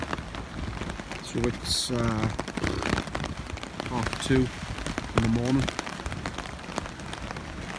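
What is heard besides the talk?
rain and wind on a hammock camp at night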